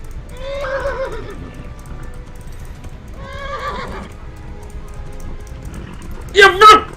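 A horse whinnies twice in the video game Kingdom Come: Deliverance, loud and close, with a brief sharper burst near the end over a low rumbling background.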